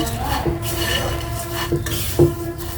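A utensil scrapes and stirs vermicelli with milk powder in a pan, producing a soft rasping shuffle punctuated by a few distinct metallic clinks against the pan's side, close and fairly loud, without speech.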